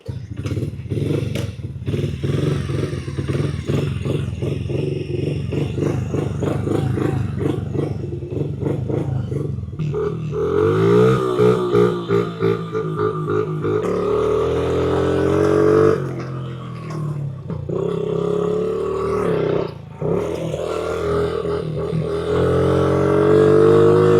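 A Honda CRF50 dirt bike engine, fitted with a brand new replacement carburetor, starts and runs close by with a steady popping idle, then revs up and down in loud surges over about twenty seconds.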